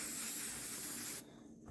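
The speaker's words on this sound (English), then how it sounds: "Coat your cloth that you're going to use to clean the barrel in a generous" Gun-cleaning solvent is sprayed from a can onto a cloth used to clean the barrel of an Iver Johnson 10mm 1911 pistol: one close, steady hissing burst lasting about a second, then it cuts off to near quiet.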